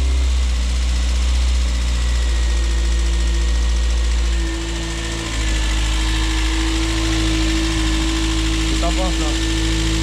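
A car engine idles while warming up, its idle speed set too high, giving a steady, loud, unbroken low drone with a slight dip midway and no clear talking.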